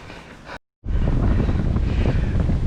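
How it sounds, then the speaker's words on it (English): Strong headwind roaring across a cyclist's microphone on an outdoor ride, loud continuous buffeting that cuts out briefly, then returns heavier and steady. "The wind has definitely arrived and I'm riding straight into it."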